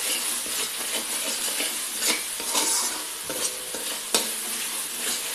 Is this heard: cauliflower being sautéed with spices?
yes